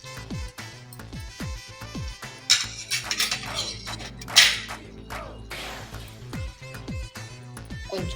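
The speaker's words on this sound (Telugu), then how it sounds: "ఇలా లైట్గా మిక్స్ చేసుకుందాం. స్లోగా తిప్పాలి." A Hyderabad-style paneer curry is stirred slowly and lightly in a pan, with irregular metallic clinks and scrapes of the spoon against the pan over a steady low background tone. No one speaks.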